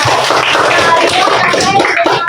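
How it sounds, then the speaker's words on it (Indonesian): Children in a classroom clapping together for a classmate, a dense burst of many hands applauding close by, loud and continuous for a couple of seconds. "Tepuk tangan untuk Alia"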